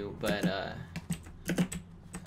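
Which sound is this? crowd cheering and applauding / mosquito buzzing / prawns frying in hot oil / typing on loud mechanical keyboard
typing on loud mechanical keyboard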